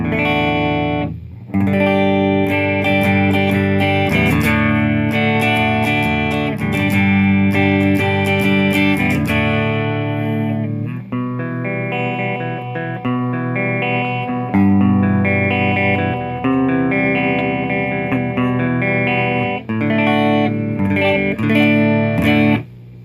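A Fender Hot Rod Deluxe III guitar amp plays on its clean channel with no reverb, as an electric guitar strums full chords and picks notes loudly and continuously, with no talking.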